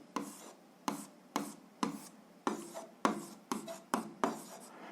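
Pen or marker writing out an algebra solution, a sequence of about ten distinct strokes and scratches at a steady pace, close and moderately quiet, with no voices.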